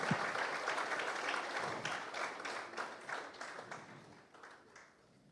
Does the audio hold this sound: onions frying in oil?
no